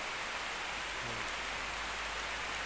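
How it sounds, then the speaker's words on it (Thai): Steady, dense rain falling onto the ground outdoors among green leaves, an even continuous hiss with no break or change throughout. "ฝน"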